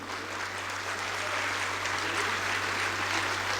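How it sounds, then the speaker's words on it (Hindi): A large audience at a big stage event claps loudly for the space agency ISRO. The applause is dense and sustained, building a little toward the end, with a low electrical hum underneath. "सारे लोग हमारी स्पेस एजेंसी इसरो के लिए जोरदार तालियां बजाइए"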